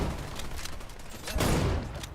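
Dense bursts of gunfire in the shooter Wild Assault, a rapid volley of overlapping shots that swells louder near the end, with game effects churning underneath.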